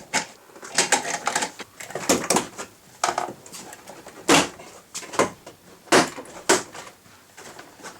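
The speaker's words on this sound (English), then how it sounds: "use leverage to kind of push the door panel away from the door, and then just kind of work your way up" Plastic trim clips snap and crack in sharp bursts as a door panel is pried away from the door of a 2017 VW Passat, close and fairly loud, with quiet gaps between pops.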